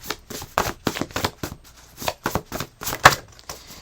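Tarot message cards being shuffled by hand close up, a quick run of crisp papery riffles and slaps in uneven bursts, with no voices over them.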